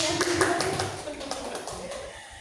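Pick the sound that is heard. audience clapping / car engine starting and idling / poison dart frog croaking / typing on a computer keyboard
audience clapping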